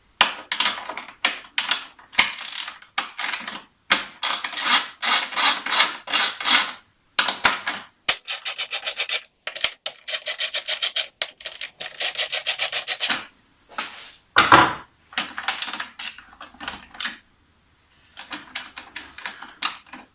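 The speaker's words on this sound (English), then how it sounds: "To remove the locking plate, we remove these four 10mm bolts." Four 10mm bolts being loosened from the locking plate of a 2017 Honda CBR1000RR motorcycle, likely with a ratchet: rapid clicking runs in repeated bursts separated by pauses, close and clear with no talk.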